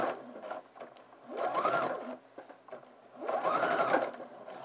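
A sewing machine stitches lining into a sleeveless dress in two sustained bursts of rapid whirring needle strokes, close and fairly loud, separated by a brief quieter pause with no talking.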